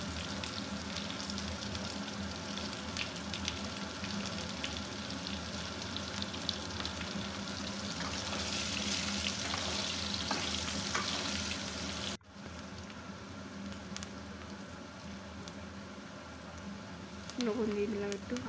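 Potatoes frying in a pan crackle and sizzle steadily up close, with a brief break partway through and a voice speaking faintly over the frying.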